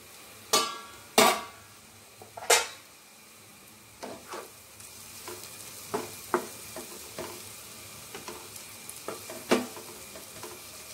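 Potatoes fry in a pan with a soft continuous sizzle, broken by loud spatula scrapes and clanks at first, then lighter repeated stirring taps, close up with no talking.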